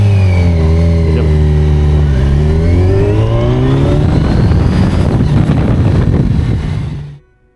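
A motorcycle engine climbs a steep Alpine mountain pass of hairpin switchbacks toward Timmelsjoch, droning loud and close under load, its pitch rising steadily as it accelerates before cutting off abruptly at the end.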